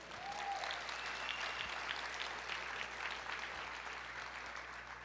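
A church congregation applauds together in sustained, dense clapping that holds steady from start to finish, loud and continuous, with no voices standing out.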